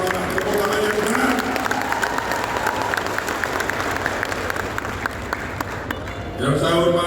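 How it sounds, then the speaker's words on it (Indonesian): Crowd applause at an outdoor campaign rally for a regional election, a dense, steady clatter of many hands with scattered cheers, loud and sustained for several seconds before easing, with voices mixed underneath. "Tepuk tangannya di sana."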